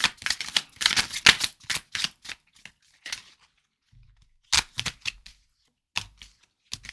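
Crisp riffling and snapping of a deck of cards being shuffled, coming in several bursts separated by short pauses, close up and fairly loud.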